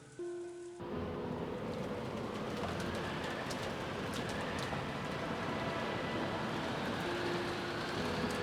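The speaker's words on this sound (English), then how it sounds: "The outside really looked like a typhoon, and the rain was pouring down spectacularly." Heavy typhoon rain pours down steadily in a visual novel scene from Umineko, a dense, continuous wash of loud rainfall that starts after a brief quieter opening and keeps its intensity throughout.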